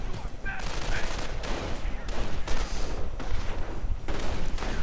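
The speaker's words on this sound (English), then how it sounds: "Submachine gun fire everywhere." Dense, continuous small-arms fire from submachine guns in a Company of Heroes battle, rapid overlapping bursts and reports rolling on throughout, loud and chaotic with no break.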